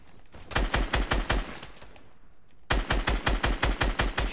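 Fortnite gunfire in two rapid rhythmic bursts of evenly spaced, punchy shots separated by a short pause, close and loud with no talking over it.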